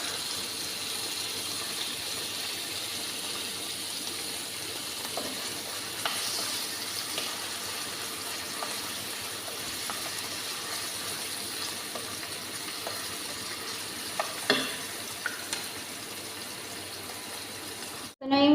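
Onion and garlic with a little chicken are sautéed in a pan for adobong kangkong. A steady soft sizzle runs throughout, with occasional clinks and scrapes from stirring, and a louder clatter at the very end.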